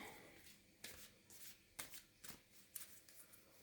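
Playing cards being riffle-shuffled at a card night, several quick crisp bursts of flicking cards with short pauses between, close and fairly quiet, with no talking.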